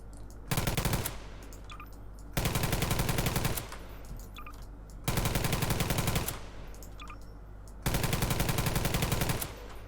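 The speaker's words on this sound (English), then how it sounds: "last gun I'll show is the PKM." PKM machine gun from a Garry's Mod weapons add-on, firing four sustained, loud bursts of rapid shots, each lasting about a second and a half, separated by short pauses with faint ringing in between.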